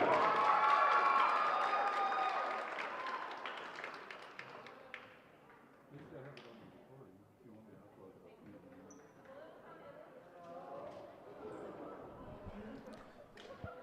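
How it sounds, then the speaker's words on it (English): Spectators in a gym at a varsity volleyball senior night clap and cheer for a senior player, a loud swell that tapers off, leaving scattered claps and crowd murmur with voices talking. "Ladies and gentlemen, a round of applause for Kalani Rosa."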